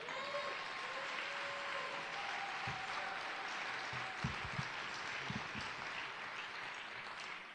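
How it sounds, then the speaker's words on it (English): Applause from a ceremony audience for the mistress of ceremonies at a state senator's oath of office event, steady and fairly distant, with a few louder claps rising near the middle. "A very special round of applause for our wonderful mistress of ceremonies, Autumn Burke."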